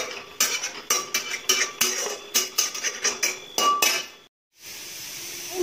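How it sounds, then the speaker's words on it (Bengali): Beto leafy greens fried with green chillies in a pan give off dense, rapid clinking and scraping of a utensil against the metal, rhythmic and close, then a brief pause and a steady hiss. "পেতে শাকটা ভাজছি এখন"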